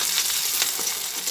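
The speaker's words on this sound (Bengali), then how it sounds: "পেঁয়াজ আর রসুন ভাজা হচ্ছে, সেই সময় এর মধ্যে 3টে কাঁচা লঙ্কা কুচিয়ে রেখেছি," Green chillies frying with onion and garlic in a pan while making egg chowmein, a steady bright sizzle with light stirring, close up and continuous, no voices.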